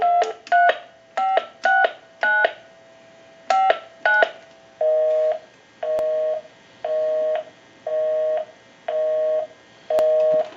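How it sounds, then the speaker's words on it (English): Rapid pairs of dual-pitched payphone keypad tones beep in quick succession, then give way to a steady, evenly spaced repeating busy tone pattern, loud and clear with no talking. "We can call my number and it'll be busy. We'll give you some dial tone."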